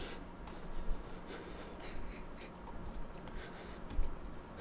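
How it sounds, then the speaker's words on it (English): A pen or pencil scratches numbers onto paper in a quiet room, a soft, close, intermittent scribbling with slight rubbing strokes and no talk. "Make sure you write these numbers down."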